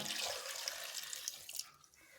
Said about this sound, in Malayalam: ഇതിലേക്ക് ആവശ്യത്തിന് വെള്ളം ഒഴിക്കാം